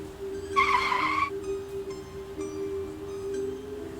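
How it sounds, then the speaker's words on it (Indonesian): A bus in a video game brakes suddenly in fog, letting out one loud, sharp tire squeal lasting under a second. A steady, droning engine hum carries on afterward. "Sampai tiba-tiba, aku mengerem mendadak."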